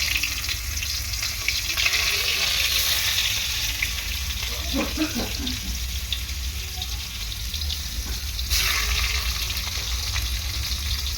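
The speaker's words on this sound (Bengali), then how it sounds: "উচ্ছে কটা প্রথমে একটু ভেজে নিই" Bitter gourd pieces fry in hot oil with a constant crackling sizzle, joined midway by a few brief tonal clinks and a splash of running-water-like noise, close and unbroken.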